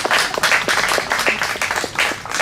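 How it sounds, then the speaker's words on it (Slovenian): Audience clapping for a host at a book presentation event, a dense, fairly loud round of applause from many hands, steady throughout. "Zdajle še en aplavz za Matejko."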